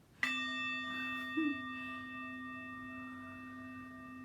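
A single bell is struck once and rings out with a clear, sustained tone that slowly fades.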